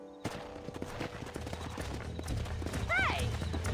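Horse hooves clip-clopping at a trot in the Western video game Red Dead Redemption, a steady rhythmic beat under game music and chatter, with a brief whinny-like rising call near the end.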